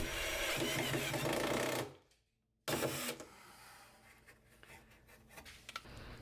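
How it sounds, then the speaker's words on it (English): A screw is driven down into a wooden backer piece, a close whirring drill burst that stops abruptly, then after a short silence resumes with lighter grinding and clicking. "Put the backer underneath there, screw it down."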